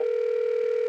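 A steady telephone dial tone hums continuously and clearly with no other sounds.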